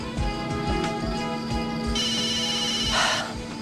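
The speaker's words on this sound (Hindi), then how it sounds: "अमन, फोन अटेंड कर लो, वरना रात भर वो तुम्हें डिस्टर्ब करेगी।" A mobile phone rings indoors at night, a bright repeating ringtone melody heard steadily over a busy musical background, with no one speaking.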